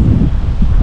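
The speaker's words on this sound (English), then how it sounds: "Wind's picked up." Gusting wind buffeting the microphone on a bikepacking ride along a rural trail, a loud, brief, low roaring rush with no other sounds.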